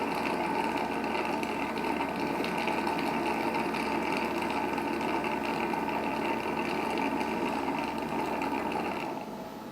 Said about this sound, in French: Et là, le système d'auto-nettoyage est en cours.